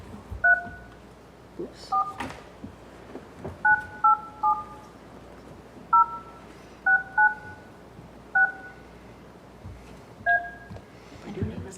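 Telephone keypad tones beep in a string of short two-tone presses, some spaced and some in quick pairs, dialed by hand at a historic district review board meeting, with a few brief spoken words between presses.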